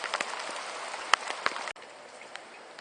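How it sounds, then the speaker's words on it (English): Steady rain pours down outdoors in Scotland, a dense even hiss with scattered louder drops pattering nearby, continuous and without voices. "I've got some rain here, I've got to find some shelter."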